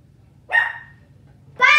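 A pet dog barks twice close by, one sharp bark followed by a longer one about a second later, over a low steady background hum.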